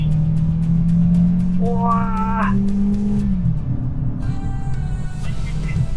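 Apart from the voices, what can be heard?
Mazda 3 sedan exhaust during hard acceleration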